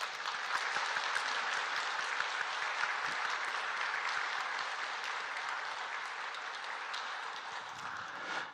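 Inside a church, a Korean congregation applauds in praise, many hands clapping steadily in a full, even burst that tapers slightly toward the end.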